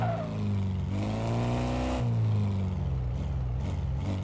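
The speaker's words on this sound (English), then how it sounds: "Sounds like that, just accelerating at 10 kilometers." Car engine in the Car Mechanic Simulator video game accelerating slowly at about 10 km/h, a steady, close droning hum whose pitch shifts gently as it revs.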